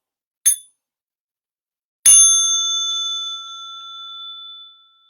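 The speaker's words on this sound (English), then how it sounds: "Small bell for stretching and massage." A small meditation bell is struck twice: a brief faint tap, then a clear ring that sustains with a long, slowly fading bright tone, alone in silence.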